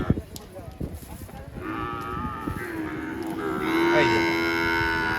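Cattle and buffalo lowing at a traditional livestock fair: long, loud, drawn-out moos rising over the crowd noise, with a second, stronger call that swells toward the end and stays close.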